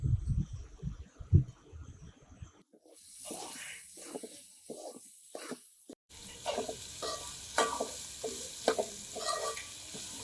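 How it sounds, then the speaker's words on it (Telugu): Minced mutton keema fries with a small tomato in a pan for biryani, giving a steady close sizzle and hiss broken by repeated scraping stirs, after a short stretch of other kitchen handling, with no talking. "మటన్ కీమా ఫ్రై అయ్యాక నేను ఒక చిన్న సైజ్ టమాటా వేస్తున్నాను ఇందులో."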